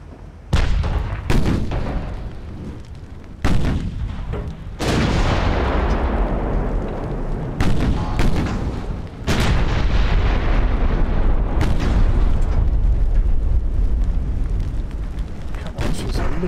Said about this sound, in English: Need all four guns firing.